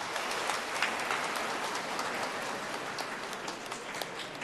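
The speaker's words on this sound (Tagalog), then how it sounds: "Pumalakpak ng malakas." Loud, dense clapping from a church congregation during a homily, a steady crackling wash of many hands that holds evenly throughout without voices.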